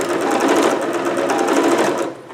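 A sewing machine runs in a fast, even burst while backstitching a garment's shoulder seam, loud and close, then stops abruptly.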